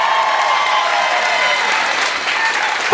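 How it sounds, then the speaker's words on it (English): A crowd applauds the entrants at a pub quiz night, loud dense clapping throughout with a brief knock near the end. "give a massive round of applause to everyone who entered to be the front tonight"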